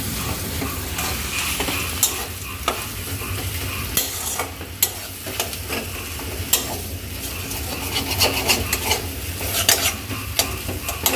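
Potatoes sauté in a hot pan, a loud continuous close sizzle with steady stirring scrapes and occasional utensil knocks, no speech.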